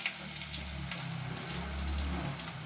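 Mustard seeds, fenugreek and onion temper in hot oil for a Kerala-style fish curry, a continuous close sizzle heard alone at moderate level.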